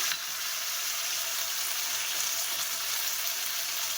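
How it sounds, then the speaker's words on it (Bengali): A spice paste for a jackfruit curry fries in hot oil with panch phoron and bay leaves, giving a steady, loud, hissing sizzle close by with no pauses. "আর এখানে যে পেস্ট করে রেখেছিলাম, মশলাটা এবারে কষিয়ে নেব।"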